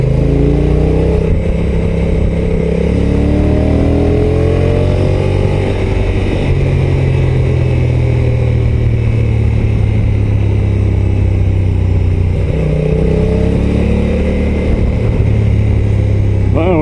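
A Honda NT 1100 DCT motorcycle on a ride gives a loud, steady engine drone that rises and falls in pitch as it accelerates and shifts, with a rider talking over it.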